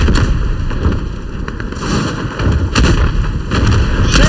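Artillery fire in a World War One Gallipoli battle game, a steady loud roar of distant booms and blasts with sharper bursts around two and three seconds and near the end.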